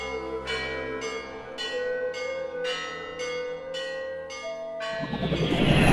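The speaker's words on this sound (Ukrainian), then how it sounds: "Дзвонять, неначе з-під землі. Так це дзвони рахманського Великодню." Easter church bells ring in a steady sequence of about seven clear, resonant strikes, each ringing on before the next. A rising wash of noise builds at the end.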